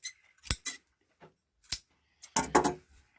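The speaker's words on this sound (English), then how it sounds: "These are dull scissors" Dull scissors snip at fabric while cutting open a buttonhole, a handful of sharp separate clicks and crunches with gaps of silence between, close and crisp, ending in a quick cluster of cuts.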